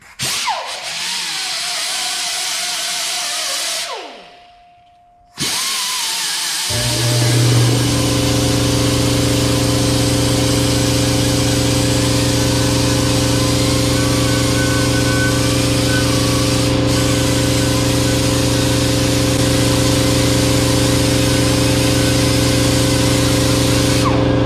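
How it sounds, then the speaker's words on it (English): A small air tool fitted with a sanding disc, working on a Mustang Bullitt part, starts after a brief pause and then runs on as a loud, steady, high-pitched whine with a constant hiss of abrasion. "I'll use my little air tool with the sanding disc, and I'll be able to clean that thing right up"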